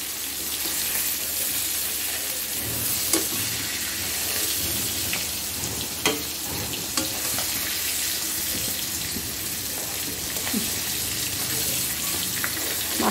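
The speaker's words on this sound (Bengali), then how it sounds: "যেহেতু আমরা হালকা ভাজবো মাছের ঝোলের জন্য" Small pieces of hilsa fish frying lightly in oil for a curry, giving a continuous close sizzle and spatter with occasional sharp pops and clinks, while a voice talks faintly over it.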